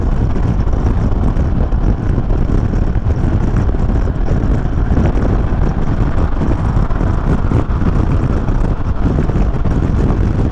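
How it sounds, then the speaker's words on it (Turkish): Strong wind roars constantly into the microphone while riding a Suzuki Burgman 200 scooter, a loud, unbroken buffeting rumble with engine and road noise mixed in and no speech. "Çünkü ciddi anlamda bir rüzgar var."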